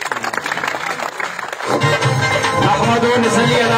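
Applause rises from the audience at an outdoor political rally, a steady dense clapping swelling after a brief lull and continuing loudly to the end.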